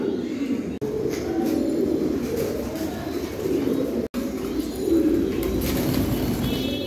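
Soft, repeated low cooing of several pigeons close by on a farm, overlapping in a steady murmur with a few faint chirps.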